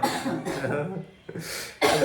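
Several short coughs from people in a home, a couple of close bursts separated by brief pauses, the last one sharp and loud.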